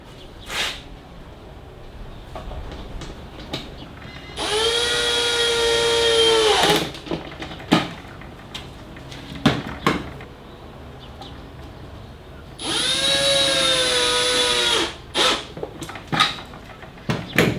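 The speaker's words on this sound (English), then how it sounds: "Two-speed drill, but also variable speed." A two-speed, variable-speed power drill whirs loudly in two bursts of a few seconds each while making a cutlery tray with a Kreg jig, separated by clicks and handling noises.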